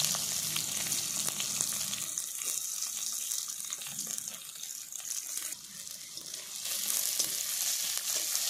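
Panch phoron, a green chili and chopped onions frying in oil on a clay stove, a loud continuous sizzle and hiss that swells as the ingredients go in, with no talk.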